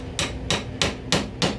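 A hammer knocks on a wooden candlestick stand in a woodworking shop, five sharp, evenly spaced hits close by, each a crisp percussive crack with a brief decay.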